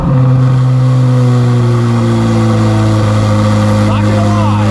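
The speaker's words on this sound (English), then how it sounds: "let's do the last cold start, quite possibly the last one" A Chevrolet Corvette C8 Z06 on its stock exhaust fires up cold and settles into a loud, steady, deep high idle with a strong low drone, close by.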